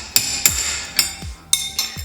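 Suppressor being tightened onto a rifle, a series of about six sharp, close metallic knocks and clinks at irregular intervals, each ringing briefly before fading.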